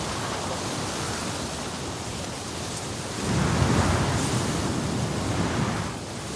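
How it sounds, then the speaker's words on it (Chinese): Strong wind blowing outdoors at night, a dense, steady roar that swells noticeably louder halfway through and then eases slightly, with no voices. "这大风"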